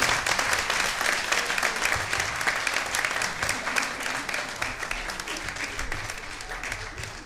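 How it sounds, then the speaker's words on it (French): Sustained applause from a concert audience at a choir performance by the Saint-Léonard choir, dense and steady clapping filling the room for several seconds, fading slightly toward the end. "Mesdames et messieurs, je vous demande d'applaudir à nouveau"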